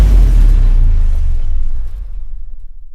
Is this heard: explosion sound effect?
yes